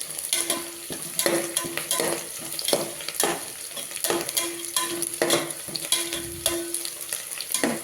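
Dal khichdi ingredients sizzle as they fry in hot oil, with a spoon scraping and stirring in a steady repeated rhythm close up, with no talk.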